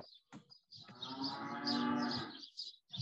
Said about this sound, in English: You can hear the cows.